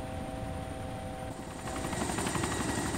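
A helicopter in the DayZ video game thrums steadily and loudly throughout, its rotor chop growing denser and closer partway through, with no talking over it.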